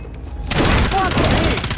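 Mounted machine gun firing in Far Cry 3, a sudden, loud burst of rapid gunfire that starts after a brief quiet moment and continues densely, with a voice speaking over the shooting.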